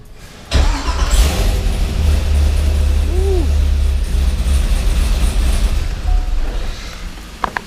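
A C5/C6 Chevrolet Corvette V8 cranks and fires up, then settles into a loud, steady, close idle with a lumpy, choppy cam rhythm that runs unbroken for several seconds.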